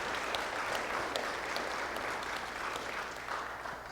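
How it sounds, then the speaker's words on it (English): A crowd at a Berkley State of the Cities 2023 event gives sustained applause for a retiring deputy superintendent, a dense, even wash of clapping that tapers slightly toward the end. "if you can give him a round of applause"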